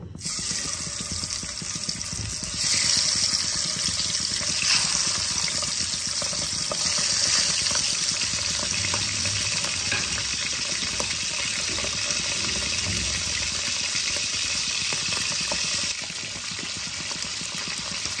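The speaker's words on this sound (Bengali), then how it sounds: "তেল আমার গরম হয়ে গেছে, আমি এবার পাবদা মাছগুলোকে একে একে ভেজে নেব।" Pabda fish frying in hot oil, a continuous loud sizzling hiss that holds steady for the whole stretch, rising slightly after the first few seconds, with no voices.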